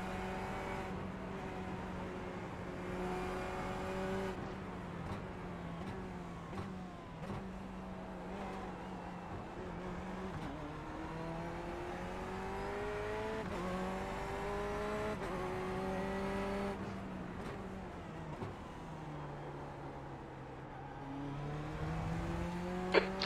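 In a racing video game, race car engines drone and rise and fall in pitch through gear changes, with cars passing and brief tire squeal, continuous and fairly loud throughout.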